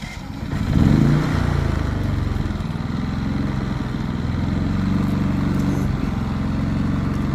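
Westinghouse iGen5000DFC dual-fuel inverter generator running, a loud, steady engine drone that swells just after starting and then holds an even hum with no talk.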